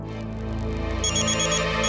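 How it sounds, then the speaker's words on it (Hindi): A mobile phone rings in a Hindi television drama, a steady electronic ringtone with a repeating pulsed chime that comes in partway, loud and close over a low background hum. "अरे ये तो आई का फोन बज रहा है"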